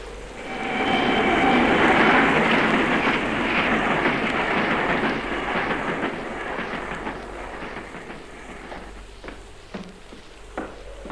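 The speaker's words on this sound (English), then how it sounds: "now I'm going to switch that ghost train onto the siding" A ghost train sound effect for a radio drama rumbles loudly with steady rolling clatter, fading and thinning as it slows, with a few sharp metallic clanks near the end and no voices.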